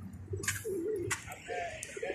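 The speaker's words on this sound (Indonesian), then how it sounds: "Masya Allah, itu burung daranya teman-teman." Pigeons cooing nearby outdoors among houses in Saudi Arabia, a few soft rolling coos alongside sharp chirps and light street background, no talk.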